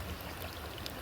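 Water pumped toward a nearby car wash rushes and gurgles in a steady, dense wash of sound, faint and continuous with no pauses.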